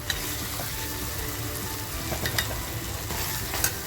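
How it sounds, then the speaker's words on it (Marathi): Masala fries in a pan with raw green mango added, a continuous close sizzle with soft crackles and occasional stirring scrapes, steady and fairly loud. "आपला मसाला किती छान फ्राय झालेला आहे"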